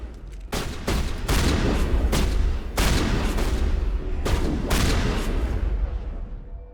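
Shotgun blasts in the Mass Effect video game, about six loud, heavy booms spaced roughly a second apart, each followed by a rumbling tail that carries into the next shot.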